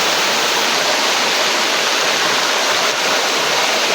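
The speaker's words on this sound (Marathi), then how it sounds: "बघा किती पाऊस पडतो." Torrential monsoon rain falls over a flooded village river in Konkan, a continuous roaring hiss of water, loud and near, unchanging from start to finish and heard alone.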